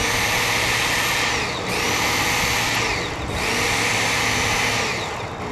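A Work Sharp powered belt sharpener grinds a tanto folding knife in a steady, loud whirring hiss, with two short dips where the blade is lifted between passes.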